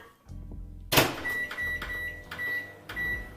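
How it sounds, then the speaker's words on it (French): A microwave oven runs while heating a chocolate chip snack, giving a steady hum broken by a sharp clunk near the start and a few high beeps; nobody speaks. "je le mets au micro-ondes pendant 3 minutes"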